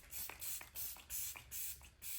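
A series of short hissing bursts from a makeup setting spray, about seven in quick, even succession, faint and close, with no voices.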